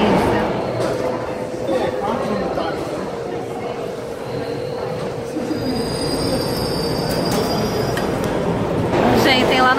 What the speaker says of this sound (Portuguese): Vamos pegar o metrô aqui agora